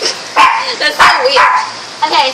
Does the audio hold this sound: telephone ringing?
no